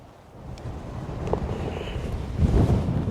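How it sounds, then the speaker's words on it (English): Gusty wind buffets the microphone on the Nefyn golf course in Wales, a low rumbling roar that builds and grows louder over a few seconds. "Really windy conditions."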